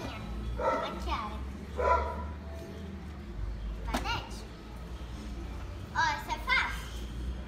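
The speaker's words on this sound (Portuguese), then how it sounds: "ignorem a cachorra latindo" A female dog barks in the background of a home setting with a few sharp, repeated barks, while children and an adult talk over them.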